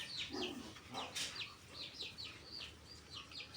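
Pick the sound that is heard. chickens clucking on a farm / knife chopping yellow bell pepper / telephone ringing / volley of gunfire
chickens clucking on a farm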